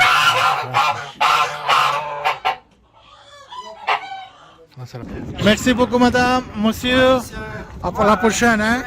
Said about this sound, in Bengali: এখানে আছে রাজা হাঁস এখানে